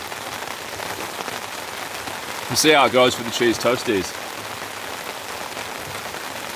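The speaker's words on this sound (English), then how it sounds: "The rain's coming down just pretty thick and steady." Heavy, steady rain falls on a campsite, a dense continuous hiss close around, with someone talking briefly over it.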